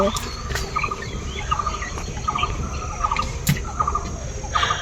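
Young chicks about a week old peep on a crowded poultry farm, their short repeated calls coming in small clusters over steady outdoor background noise, with the odd louder bird call mixed in.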